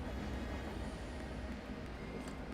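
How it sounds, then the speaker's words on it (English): A train passing nearby, a continuous low rumble with rail noise, steady and fairly faint throughout. "Can you hear the train?"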